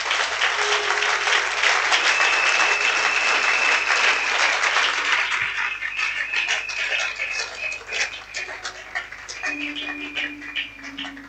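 A congregation in a French-speaking church breaks into loud, sustained applause, filling the room and slowly thinning out, with voices rising through the clapping.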